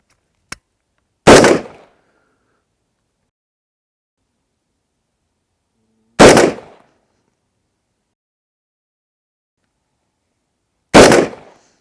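Three sharp shots from a GROT civilian carbine ring out at a range, spaced several seconds apart, loud and close, with a faint click before the first; no talking.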